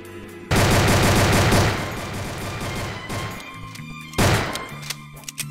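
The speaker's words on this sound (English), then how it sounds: "But there's a zombie, I have a pistol." Pistol shots fired at zombies in a Roblox zombie game called the Undead Coming: a loud, dense volley of rapid gunfire cracks, a drop into softer shooting, then a second sharp burst near the end.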